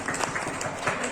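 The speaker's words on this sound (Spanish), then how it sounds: "Un aplauso." An audience applauds at a collage workshop session, a steady wash of many hands clapping throughout, moderately loud and continuous.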